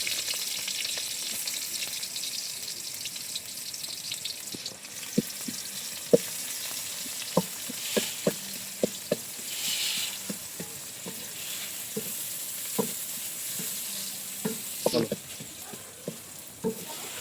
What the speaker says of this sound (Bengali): আমরা বিরিয়ানির জন্য বেরেস্তাটা করে নিচ্ছি।